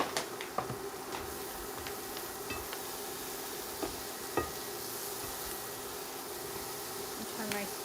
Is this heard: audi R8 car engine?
no